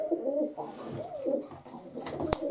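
Pigeons cooing nearby in soft, repeated low warbling calls, with a few brief sharper rustles or clicks near the end.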